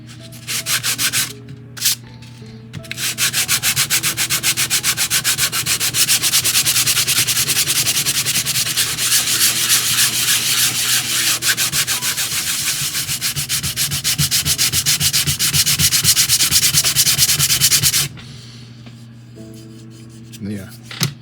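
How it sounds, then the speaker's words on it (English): Steady, rapid back-and-forth sanding of a wooden part of a 1:400 scale S.S. Edmund Fitzgerald model, loud and close, running continuously for most of the clip before stopping. "So let's maybe a bit more sanding."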